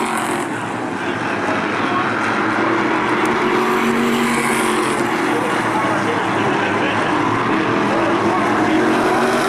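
SK Light race cars lapping at New London-Waterford Speedbowl make a loud, steady engine roar that holds throughout, with a commentator's voice partly over it.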